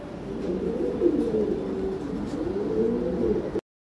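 A newly mated pair of pigeons billing each other, giving low, continuous murmuring coos close by with no talk over them.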